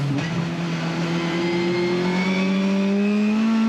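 A race car engine through the last corner of the final lap at Paul Ricard in 2021, heard onboard as a loud, steady, droning engine note that climbs gradually in pitch as the car accelerates.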